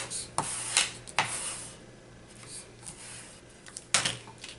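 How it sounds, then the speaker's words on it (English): Paper being burnished flat onto a handmade book-page envelope, giving soft rubbing and scraping strokes with a few sharper rasps, close and fairly quiet, with no speech. "And then we're just going to burnish it."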